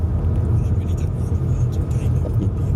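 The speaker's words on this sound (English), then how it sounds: "Truck spotting!" A truck passes on a road in Scotland as a steady, close engine rumble, with voices talking over it.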